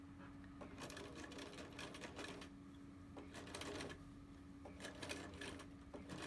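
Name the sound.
sewing machine zigzag stitching along a fabric edge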